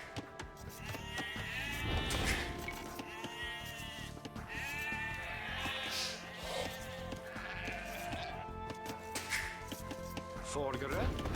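Sheep in a medieval strategy game village bleat repeatedly, their wavering calls overlapping a steady game soundtrack while a voice talks.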